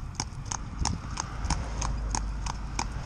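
Horse hooves clip-clop in a steady, even rhythm of about three strikes per second on a hard surface near passing cars, close and clear over a low background rumble.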